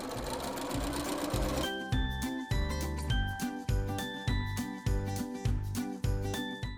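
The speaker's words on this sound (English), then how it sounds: "Then I'm gonna sew a decorative stitch 1/2 inch from this seam." Sewing machine stitching a decorative seam on a fabric book bag, running in a fast, steady mechanical rhythm with repeated clicking pulses, close and clear with no talking.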